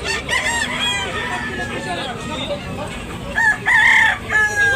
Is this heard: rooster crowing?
yes